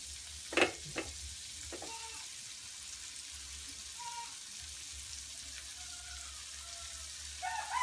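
Squid pieces for calamari fry in hot oil in a pan, giving a steady, soft sizzling hiss throughout, with a couple of faint utensil clinks near the start and no voices.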